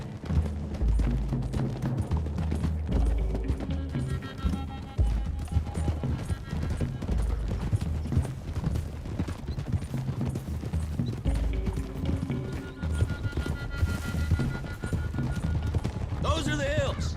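Horses galloping in a video game, a fast, continuous clatter of hooves under loud dialogue and background music, with occasional bursts of gunfire.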